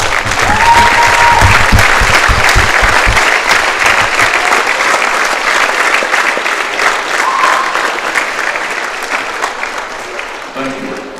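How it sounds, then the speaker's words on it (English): A crowd in a high school gym applauds the game officials before a Florence/Henry Falcons basketball game, loud sustained clapping that slowly fades, with a few voices mixed in. "Please stand and show your appreciation by giving them a big round of applause"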